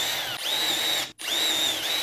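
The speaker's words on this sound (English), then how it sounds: "I'm gonna drill some really shallow pilot holes just so I can get these started." Ryobi power drill boring shallow pilot holes into a 6x6 wooden post for lag bolts, a steady high-pitched whine running close and loud, briefly stopping once before spinning up again.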